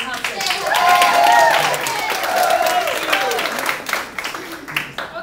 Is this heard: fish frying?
no